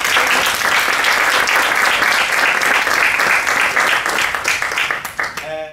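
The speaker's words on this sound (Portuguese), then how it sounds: "Peço-me uma salva de palmas para este elenco maravilhoso." A theatre audience gives a theatre cast a loud, sustained round of dense applause that holds steady for several seconds, then begins to fade, with a voice starting to speak at the very end.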